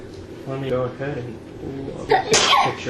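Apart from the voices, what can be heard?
sneeze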